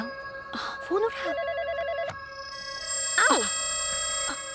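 A phone rings with a steady electronic trill, repeating in short bursts while voices speak over it.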